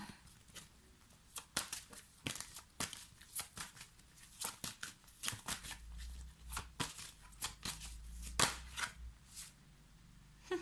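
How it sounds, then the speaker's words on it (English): Tarot cards are pulled and shuffled from a deck, quiet irregular flicks, snaps and rustles close up, with soft handling noise between them. "I think I'm gonna pull some cards from here."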